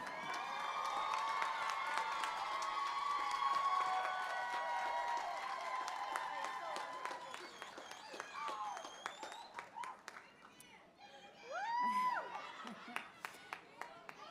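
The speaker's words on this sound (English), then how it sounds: "Let's give a round of applause for the class of 2020" Commencement audience at a university school of social work doctoral ceremony applauds and cheers the graduating class of 2020, with sustained clapping and whoops, then a thinner patch followed by a fresh swell of cheering.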